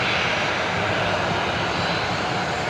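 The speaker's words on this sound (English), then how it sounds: "there's that A330 going to Sydney, ferry flight" An Airbus A330 departs Brisbane Airport on an empty ferry flight to Sydney, its engines a loud, steady broadband roar that fills the whole moment with no voices over it.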